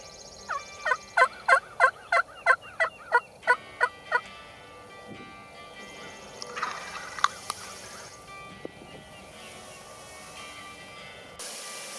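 A wild turkey gobbler in a field gives a rapid run of about nine loud gobbling calls close by, then the field falls quiet apart from faint scattered background sounds.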